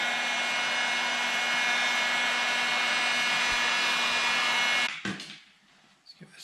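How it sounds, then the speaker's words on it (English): A heat gun blasts hot air onto a Kydex frame guard for a 2019 YT Jeffsy AL Base, a loud steady whoosh that holds for about five seconds, then cuts off, leaving quiet handling noises. "we got the heat gun out"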